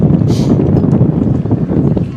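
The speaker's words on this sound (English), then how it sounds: "It's really getting windy." Steady, loud wind buffeting the microphone, a constant rumbling roar with no clear breaks.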